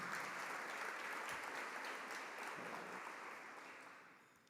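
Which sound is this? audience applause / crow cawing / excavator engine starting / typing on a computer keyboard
audience applause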